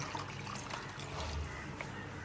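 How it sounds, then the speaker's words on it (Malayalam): Water poured into a pan of coconut-ground fish curry (vaala curry) in a home kitchen, a soft continuous trickle and splash lasting a couple of seconds, close and fairly quiet. "ഇനി നമുക്ക് കുറച്ച് വെള്ളം ഒഴിച്ചു കൊടുക്കാം"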